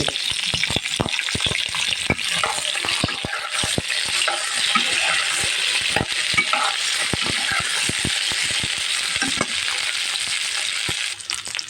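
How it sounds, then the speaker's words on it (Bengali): Eggplant frying in hot oil in a pan, a dense, steady sizzle with constant crackles and pops that holds at an even, fairly loud level throughout, with no voices. "দেখো এখন আমি এই বেগুনটাকে ভেজে"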